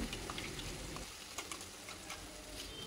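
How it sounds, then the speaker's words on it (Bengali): Mustard paste fries in oil in a wok while being stirred, a faint steady sizzle with soft scraping clicks from the stirring, close by and without talk. "এবার আমি এই সর্ষের পেস্টটাকে কড়াইয়ের মধ্যে কিছুক্ষণ তেলের সাথে ভালোভাবে মিশিয়ে নিচ্ছি বা নেড়ে চেড়ে নিচ্ছি।"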